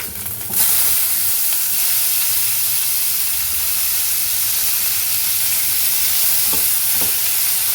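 Onion, green chili, ginger garlic and tomato sautéing in a pan for a cauliflower and sweet potato kola gravy, giving a steady, loud broadband sizzle with occasional soft stirring scrapes, no talking.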